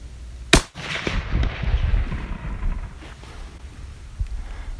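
A Weatherby rifle fires a single shot at the range, a sharp, loud crack followed by a long rolling echo and wind buffeting the microphone.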